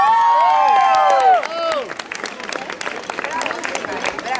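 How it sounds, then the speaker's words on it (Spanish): Wedding audience applauding and cheering for a guitarist, with loud sustained clapping and voices that fade after the first second into scattered claps and crowd chatter. "Un aplauso para Gino."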